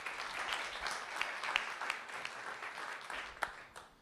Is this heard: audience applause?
yes